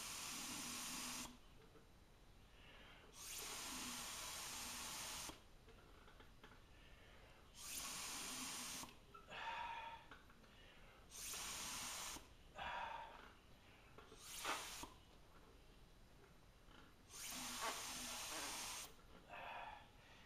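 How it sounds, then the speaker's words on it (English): Bursts of hissing spray as wood ash is sprayed onto pottery come in about six separate blasts, each a few seconds long, separated by quieter gaps with faint rustling and handling sounds. "And now I put a little bit more heavy spray on the top shoulder,"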